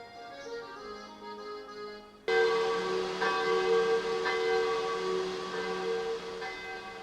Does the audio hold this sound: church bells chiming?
yes